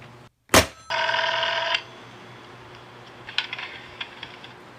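An old telephone in a radio drama emits a sharp metallic click, followed by a short ringing burst and then fainter scattered clinks and rattles on the line.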